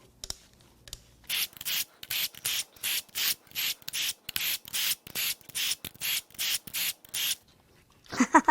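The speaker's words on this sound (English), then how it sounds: "So now we're going to crack all these bolts loose so that we have access to the head bolts." A ratchet wrench clicks in repeated bursts, about fifteen close, crisp strokes in a steady rhythm, while bolts are cracked loose on a 2020 Silverado 1500's 3.0 Duramax engine.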